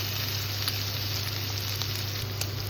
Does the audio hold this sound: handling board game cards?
no